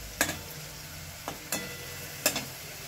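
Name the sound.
frying beetroot in oil in a pan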